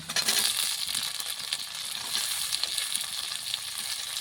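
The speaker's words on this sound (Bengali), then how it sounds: "গাজরগুলি একটু ভেজে নিয়েছি, আর এখন দিয়ে দেব ক্যাপসিকামগুলি" Carrots and capsicum sizzle steadily in hot oil in a pan, a close, continuous frying hiss with occasional stirring scrapes.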